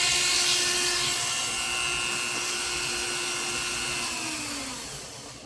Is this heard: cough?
no